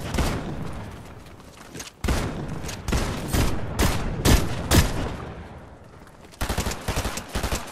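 Fortnite gunfire from a live game stream, rapid bursts of sharp shots and automatic fire in clusters with short pauses, loud and close, with almost no talking.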